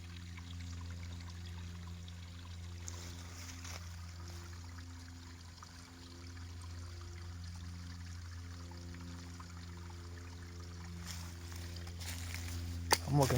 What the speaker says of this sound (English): Awesome stream. This is from spring water.